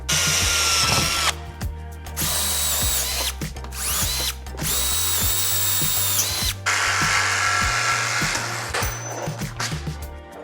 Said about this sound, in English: I want to drill a little hole, or a medium-sized hole at the end